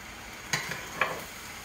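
Pre-cooked medium noodle shells are stirred into a pot for lasagna, giving two soft scraping swishes about half a second apart against a quiet background.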